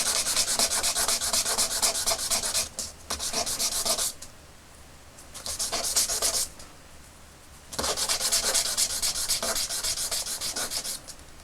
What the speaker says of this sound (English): So I'll just do a little bit of sanding